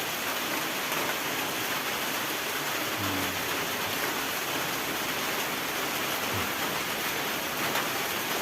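Steady heavy rain pouring down as a constant dense hiss, with a couple of faint low thumps partway through.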